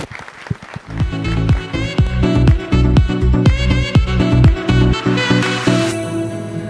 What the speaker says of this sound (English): let's give the Vice President and the team a round of applause